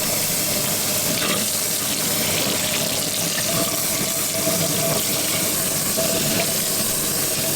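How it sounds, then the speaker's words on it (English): Cold tap water runs steadily over a small octopus being rinsed in a sink, a continuous even splashing hiss that holds at the same close level throughout, with no voices. "He's gonna rinse it in cold water."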